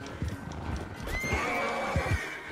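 A horse in Red Dead Redemption 2 whinnies in a rising, drawn-out call, framed by dull clip-clop hoofbeats before and after, clear and fairly close.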